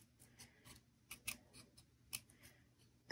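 Scissors snip through paper while shaping a paper rose petal, a quiet series of short, crisp cuts spaced irregularly, with a louder snip at the very end.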